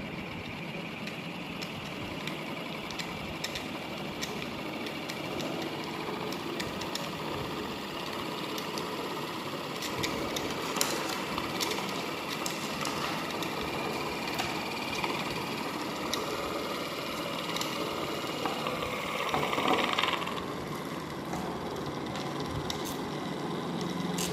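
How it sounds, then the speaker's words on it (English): A small single-phase BLDC motor with a toroidal rotor, fed from a regulated bench power supply, runs with a steady mechanical hum and faint rattling vibration, continuous and fairly quiet throughout. "now I am going to switch on the power supply okay the motor is running"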